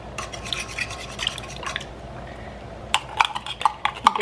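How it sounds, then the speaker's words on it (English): Tomato paste is stirred into a pot of stuffed pepper filling, heard as close, wet scraping and brushing strokes, with a brief pause in the middle before quicker, clinking stirs resume. "And I'm going to get this stirred up."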